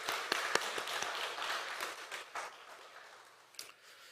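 A church congregation claps for the choir after a hymn, with faint, scattered hand claps that thin out and fade over a few seconds.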